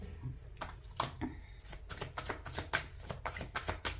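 Tarot cards are shuffled and drawn by hand close up: quiet, rapid riffling and slapping bursts in an uneven rhythm, with soft card taps between them.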